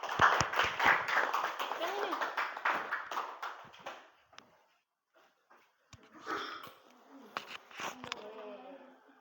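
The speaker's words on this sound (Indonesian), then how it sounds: "Beri tepuk tangan untuk kelompok 1." Clapping from a group bursts out loudly, fading after a few seconds, then scattered claps and chatter return near the end.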